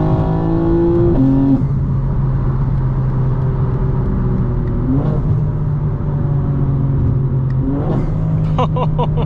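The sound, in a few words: modified 2025 BMW M4 Competition downshifting, engine revving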